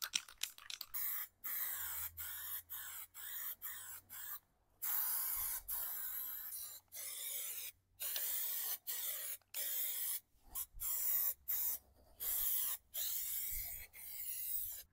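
Gray Raptor liner coating is sprayed onto a trailer in a series of hissing, textured bursts separated by short pauses, close and steady, with no talking.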